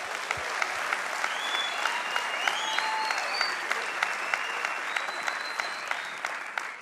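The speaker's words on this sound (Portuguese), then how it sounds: "Vamos aplaudir o Senhor." Steady applause from a church congregation, dense and sustained for several seconds, with a few sharper claps and faint tones drifting through.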